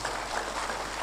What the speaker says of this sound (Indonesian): tepuk tangan untuk Pak Kiai Imaduddin